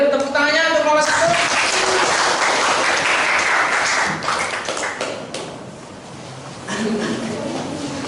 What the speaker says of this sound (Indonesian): Boleh tepuk tangannya untuk kelompok 1